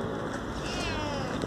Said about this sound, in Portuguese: Tá miando.